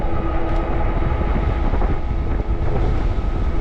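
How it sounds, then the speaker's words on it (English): Wind buffeting the microphone outdoors while riding an Ariel Rider Grizzly electric bike on a hill, a constant low rumbling roar with gusty fluctuations and no talk. "It's also windy today, so I got a double whammy challenge here."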